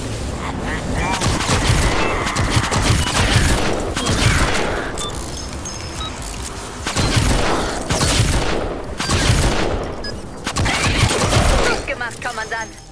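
Repeated rapid shots from a new pistol in the video game Fortnite ring out loud and near in clustered volleys with short pauses, mixed with game effects and occasional talk.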